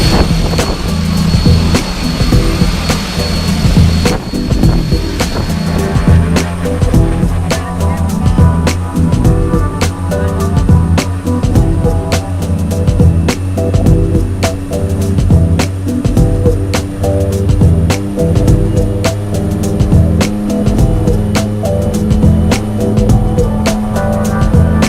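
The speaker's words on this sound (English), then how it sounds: "That's our awesome plane right there." A skydiving plane's engine runs steadily and loud at a tandem skydive centre in Tennessee, a continuous droning hum with strong low harmonics lasting throughout, with no talk over it.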